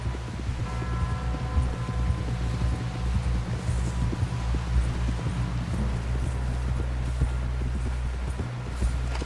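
A horse walks at a steady pace in the open-world video game Red Dead Redemption 2, its hooves clip-clopping continuously over light wind and rustling ambience for about nine seconds.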